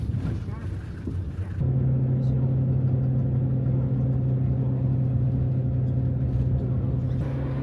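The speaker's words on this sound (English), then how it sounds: "we hop on a shuttle bus that would carry us up the final ascent" A shuttle bus climbing a mountain road toward a high border pass, its engine a steady loud rumbling drone heard from inside, with a rougher shift early on before settling into a constant hum.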